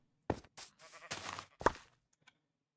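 A Minecraft sheep bleats in a few short, distinct bursts close by, with brief pauses between calls and no talking.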